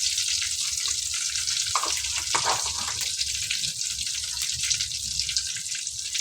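Fennel seeds frying in hot oil in a pan for vegetable kurma, a soft continuous sizzle with a brief louder spatter of crackles partway through, close by and without talk.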